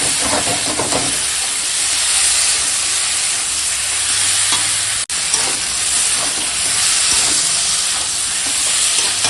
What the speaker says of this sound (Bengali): সেদ্ধ করা আলু দিয়ে দিলাম, দিয়ে একসঙ্গে কষাই।